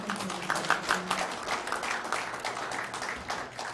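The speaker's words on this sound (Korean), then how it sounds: "여러분 축하의 박수 한 번 더 부탁드립니다" A hall audience at a Korean medicine association president's inauguration ceremony breaks into dense, sustained applause, many hands clapping at once, filling the room evenly with no voices on top.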